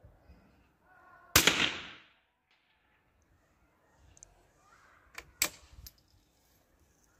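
A .22 LR rifle, comparing supersonic and subsonic Eley and S&B ammunition, fires a single sharp close shot that decays quickly, followed later by fainter clicks and handling noise.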